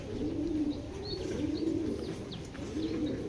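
A female Giribaz pigeon coos in soft, repeated rolling phrases, close by, with a few faint chirps from other birds in the background and no talking.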